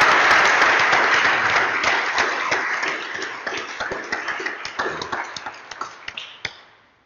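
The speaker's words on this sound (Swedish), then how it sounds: "Och en applåd, va?" An audience at a church leadership discussion event claps in sustained applause that starts full and gradually thins into scattered claps before fading out.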